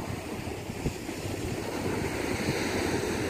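Sea waves wash continuously at a Kerala beach, a broad rushing surge that swells slightly toward the end, mixed with wind buffeting on the microphone and no voices.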